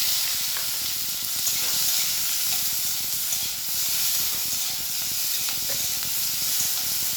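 Capsicum and tomato fry in a pan after a tempering of white lentils, producing a constant close hissing sizzle with small pops throughout.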